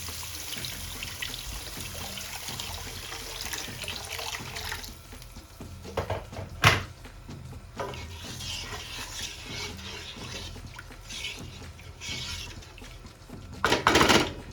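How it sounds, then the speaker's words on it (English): Water poured into a cooking pot while making potato pottage, a soft trickling and splashing fill heard alone, with a couple of brief louder clanks and pours. "And now I'm going to add some water."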